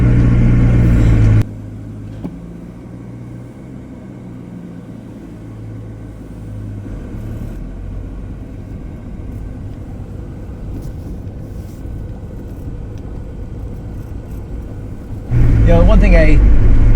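A Merkur XR4Ti engine idles after a cold winter start at 28 degrees, giving a steady low rumble with a faint ticking layer, while a louder burst of talk and noise frames the start and end.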